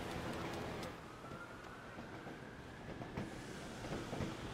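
A train in the LEGO City Undercover video game rumbles along the tracks with dense rolling clatter and rhythmic clicks, loud and continuous throughout with no talking.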